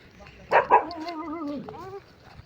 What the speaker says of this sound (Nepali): उता चाहिँ कुकुर छ